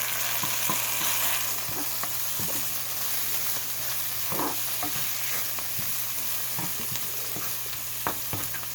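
Leeks and green onions sizzling in a cast iron pan over a fire, a steady loud hiss of frying broken by occasional scrapes and stirs of the utensil.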